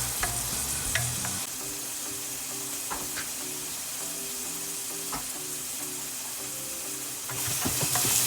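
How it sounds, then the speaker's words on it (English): Tomatoes and rosemary stirred in a sizzling pot for Jamaican turn cornmeal: a constant frying hiss broken by repeated spoon scrapes and clicks against the pot, with a faint hum underneath and no talking. "I'm gonna add the tomatoes and rosemary. Just stir this a little bit."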